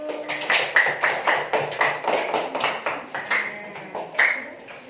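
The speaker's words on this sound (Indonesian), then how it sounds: "tepuk tangan untuk kelompok 2 dan kelompok 1" Pupils in a classroom clap for their groups after a lesson activity, a steady run of fairly close, rhythmic handclaps lasting throughout with no talk.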